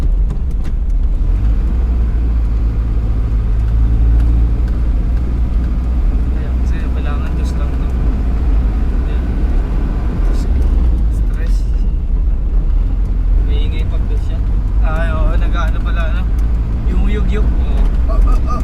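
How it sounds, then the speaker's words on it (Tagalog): A boat engine, stated as 2.5 in size, runs loudly and steadily throughout as a constant low rumble on an island trip, with people talking over it. "Lakas ng makina."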